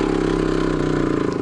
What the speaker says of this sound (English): Listen to the motor on this thing.